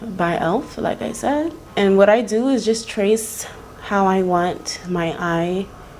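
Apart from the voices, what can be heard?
No everyday noise stands out behind the speech.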